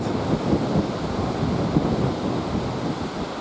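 Steady broadband wind gusting across an open golf course tee at Heythrop Park Resort, a continuous rushing roar with slight surges, buffeting the microphone, no talk.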